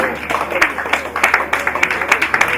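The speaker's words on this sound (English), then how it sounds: "Please, a round of applause for the future millionaires." Audience clapping at a hackathon event, a crowd applauding with sharp, dense claps in a steady patter, close and lively for the whole moment.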